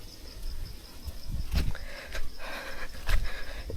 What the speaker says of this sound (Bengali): ঝিঝি পোকারা ডাকছে।